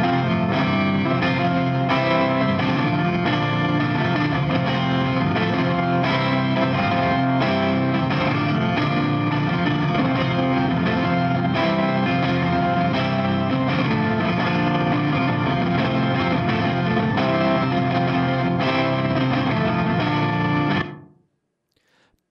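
Full music mix played back in Studio One with pan automation sweeping hard from center to left and right, a dense, continuous effected track at steady loudness for about twenty seconds before stopping abruptly.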